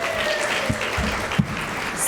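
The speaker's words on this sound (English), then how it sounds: "let's give them another round of applause, please." Audience applause at a teen mental health first aid summit, a steady wash of clapping from a crowd at moderate distance with a few sharper nearby claps.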